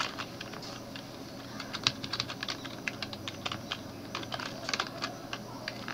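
Fingers tap steadily on a computer keyboard while HTML code is typed, a run of quick, light key clicks with short pauses, close and soft, alone with no voices.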